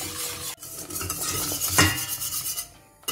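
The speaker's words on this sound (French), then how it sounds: "On n'oublie pas de toujours bien touiller, bien mélanger pour pas que ça n'accroche au fond de la casserole." A whisk scrapes and clinks against a saucepan while a cream for a liégeois dessert thickens over high heat, with quick, close stirring strokes and a few sharp metallic taps.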